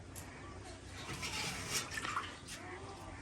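Water pours steadily into a container for the full few seconds, a continuous splashing rush at close range, with voices talking in the background.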